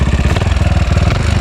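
Motorcycle engine idling in first gear, a loud, close, steady throbbing putter with fast even pulses.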